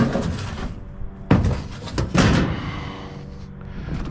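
Metal access door being pulled off a tow-behind welder generator being scrapped outdoors: sheet-metal clanks and scrapes, with two sharp bangs near the middle, loud and close, over a faint background hum.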